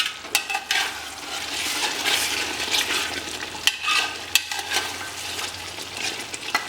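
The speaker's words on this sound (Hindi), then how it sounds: "अब इसे तेज आंच पे हम थोड़ा भून लेते हैं 3-4 मिनट" Bengali-style mutton curry fries in a pan over high heat, a steady sizzle broken by frequent scraping and clinking strokes of a spoon stirring the meat, close and alone.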